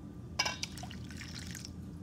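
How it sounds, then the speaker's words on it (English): Water poured into cake batter mix in a bowl for a two-layer cake: a faint, brief trickling pour of a second or so against quiet room noise. "Now the water."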